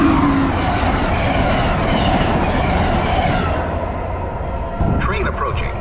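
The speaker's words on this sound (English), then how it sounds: "Train approaching. Please remain behind yellow line." A loud, close train rumbles along the platform at Readville station with a continuous roar that eases slightly near the end, and a voice speaks over it.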